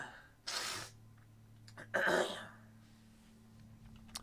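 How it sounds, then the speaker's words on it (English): Two sharp bursts close to the microphone, a forceful sneeze followed by a throat-clearing exhale, against a faint steady hum and no talk. "Sorry about that, had to sneeze."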